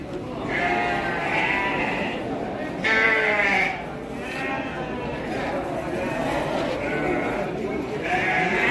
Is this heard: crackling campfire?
no